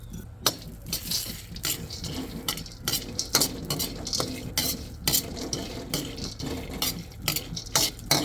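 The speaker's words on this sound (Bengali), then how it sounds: "এটা দিয়ে আমি আমন্ড এবং ক্যাশু নাটগুলো আমি ভেজে নিচ্ছি।" Almonds and cashews fry in ghee in a wok for date laddoos, with a soft sizzle under repeated rhythmic scrapes and clinks of a metal spatula against the pan, close up and without talking.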